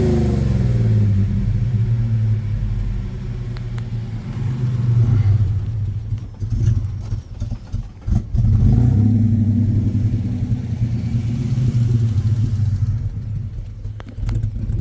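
A 1996 Chevy S10 pickup engine idles through a new exhaust with a deep, rumbling tone, dipping briefly midway before settling back into a steady, close rumble.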